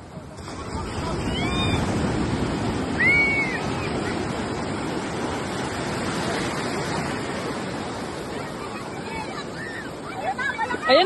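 Sea waves surge and wash steadily in open water, a continuous broad roar with wind buffeting the microphone, heavier swells building near the end; a few faint voices call out briefly in the background.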